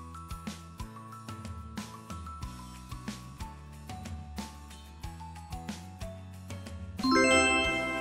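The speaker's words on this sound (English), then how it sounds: "That was the sound of a new order received in the restaurant's kitchen." Chiming GloriaFood app new-order alert in a restaurant kitchen rings out over a rhythmic backing track: repeated bright tinkling dings across the clip, building to a denser, louder jingle at the end, with no talking.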